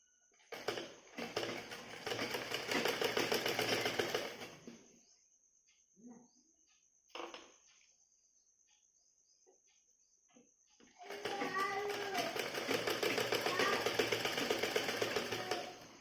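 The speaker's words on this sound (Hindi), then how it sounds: "इस तरह से सिलाई चला देते हैं" A sewing machine stitches the hem of a blouse in two loud, steady bursts, one at the start and one at the end, with quiet handling noises and brief clicks between them.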